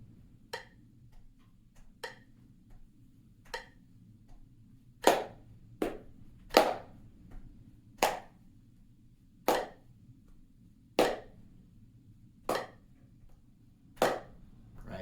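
A metronome ticking at 80 beats a minute: sharp, evenly spaced clicks, faint at first and then louder, over a low steady hum.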